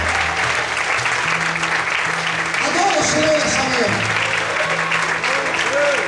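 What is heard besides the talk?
church congregation applause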